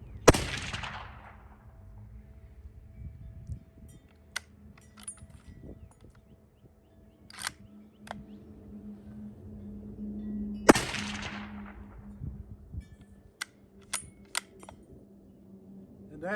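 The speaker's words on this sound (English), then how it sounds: "And that concludes the demonstration of a .338 that's suppressed." Suppressed .338-06 rifle fired twice, each a sharp crack with a decaying tail several seconds apart, with faint metallic clicks and handling noises between shots.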